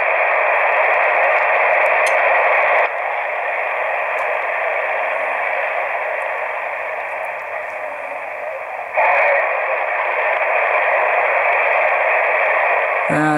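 Band-limited hiss and static from a Yaesu FT-817 ham radio receiver fitted with a BHI NEDSP1061 DSP noise-eliminating filter, steady and fairly loud, dropping in level for several seconds mid-clip before returning.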